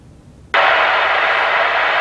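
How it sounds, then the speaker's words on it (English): Pink noise test signal from a front left speaker during speaker level calibration, a steady broadband hiss that switches on abruptly after a brief quiet moment and holds at constant loudness, alone with no talk. "now what you're hearing is a pink noise generation coming from my front left speaker."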